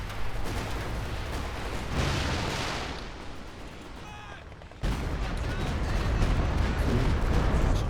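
Mortar shells drop in a World War II strategy video game, a dense run of booming impacts and crackling blasts that thin out briefly before a sudden loud burst resumes the barrage.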